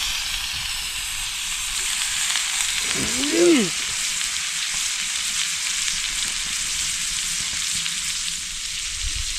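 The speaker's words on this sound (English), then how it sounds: "we got the onions and the jalapeno and a slab of butter on the fire. We are cooking." Flounder frying on a fire with onions, jalapeno and a slab of butter, a steady close sizzle and hiss that holds throughout, with a brief warbling whistle-like sound partway through.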